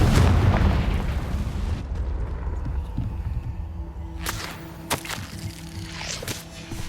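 A Confringo explosion spell in the video game Hogwarts Legacy lands as a loud, deep boom whose rumble fades over a couple of seconds, followed by scattered cracks and pops.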